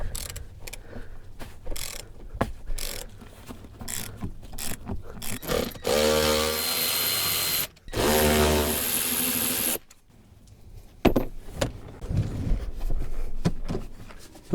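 Wrench or ratchet working 13 mm seat bolts loose in a 1997-2001 Jeep Cherokee XJ: close ratcheting clicks, then two sustained buzzing, grinding stretches, a pause, and more scattered clicks and knocks.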